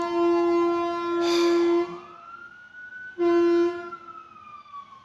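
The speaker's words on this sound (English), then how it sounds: "There's a siren outside." Emergency vehicle siren heard from outside, two rising wails with a sustained tone between them, moderately loud and somewhat distant, with no talk over it.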